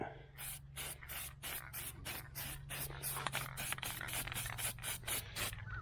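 Cheap black aerosol spray paint is misted onto a hail-damaged 2009 Mustang body in about twenty short, evenly spaced hissing bursts, close and fairly quiet over a low steady hum.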